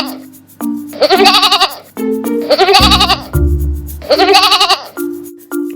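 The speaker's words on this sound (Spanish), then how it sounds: "Cabra." Goats bleat in repeated wavering calls, three loud bursts with short gaps, the animal close and clear.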